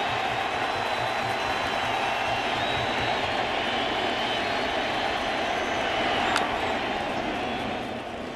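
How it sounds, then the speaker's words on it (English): A sold-out Comerica Park crowd at a 2013 playoff baseball game between the Detroit Tigers and Oakland A's keeps up a steady, dense roar of voices throughout, loud and continuous with no single voice standing out. "this sold out Comerica Park crowd is every bit into the proceedings"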